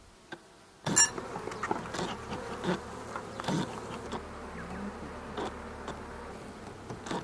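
Honeybees buzz steadily around an opened hive during a spring orientation flight, with a dense, continuous close drone and sharp clicks and bumps near the lid.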